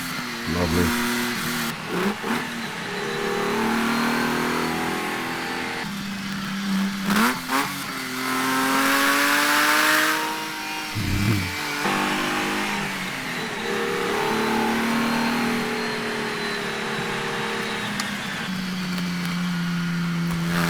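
Close and loud, a Ferrari Dino V6 engine climbs and drops through repeated throttle sweeps and sharp revs, with a few short pauses between pulls.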